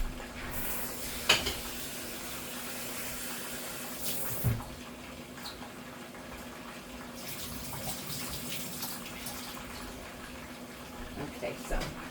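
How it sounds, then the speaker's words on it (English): Tap water runs steadily into a container as it is rinsed out in a kitchen, a soft continuous rush with a few small clunks and splashes. "Now I'm going to rinse this out."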